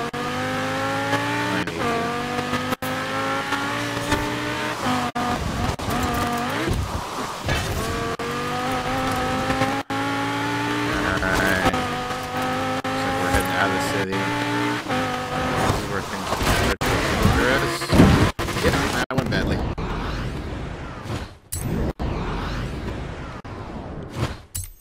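A car drifting in Forza Horizon 4, its engine revving and shifting through repeated rising pitches while the tires squeal, loud and up close for most of the stretch, with a voice talking now and then.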